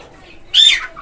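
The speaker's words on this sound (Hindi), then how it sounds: "यहाँ पर एक पोल्ट्री फार्म भी है, जैसे कि अभी हम दिखा रहे हैं" A single brief, loud squawk rises from chickens at a poultry farm, sharp and near against a faint background, with no talking.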